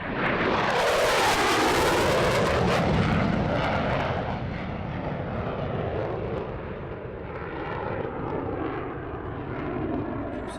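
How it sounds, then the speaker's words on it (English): A Casa C295 military transport of 502 Squadron makes an airshow flypast, its loud turboprop drone sweeping past close with a falling pitch and then fading steadily. "A second series of flypasts comes from this Casa C295 from 502 Squadron"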